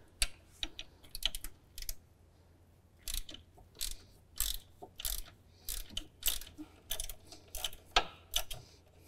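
A 10mm socket wrench ratchets on a battery clamp bolt of a John Deere XUV 835R Gator, in quick irregular clicking bursts, close and fairly quiet, with no talking.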